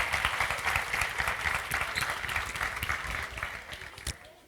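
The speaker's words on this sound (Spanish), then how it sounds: "Un aplauso" A church gathering breaks into audience applause, a dense burst of many people clapping that tapers off gradually over a few seconds.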